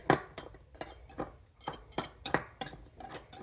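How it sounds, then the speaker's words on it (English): A spoon scrapes and clinks against a pot while stirring chili, a series of about a dozen irregular metallic taps and scrapes, close and fairly quiet, with no talking. "I stir it up more"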